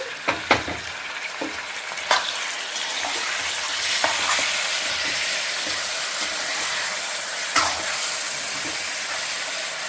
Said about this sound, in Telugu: ఇవి గోల్డెన్ బ్రౌన్ కలర్ వచ్చే వరకు వేయించుకోండి